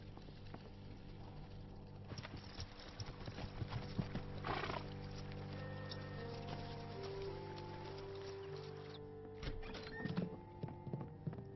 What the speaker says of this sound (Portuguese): O banco do cocheiro se quebrou e os cavalos fugiram.